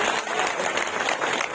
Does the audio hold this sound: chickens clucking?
no